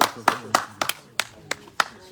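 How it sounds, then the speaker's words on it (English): Separate bursts of audience clapping for a guest at a live event, about seven sharp claps spaced roughly a quarter second apart, close and fairly loud with no talk over them. "Please a round of applause for."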